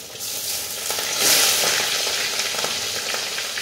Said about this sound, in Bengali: রুই মাছ এরকম কখনো ফাটে? রুই মাছ তো নাকি ফাটে